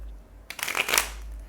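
Tarot cards are riffled and shuffled in a brief crisp burst of papery flutter up close, with no talking over it.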